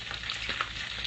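Onions and garlic sautéing in a pan for a stew, a steady close sizzle with faint stirring scrapes throughout, no voices.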